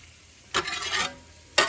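Onions and garlic cooking in olive oil, a soft background sizzle punctuated by two louder bursts of stirring or tossing in the pan.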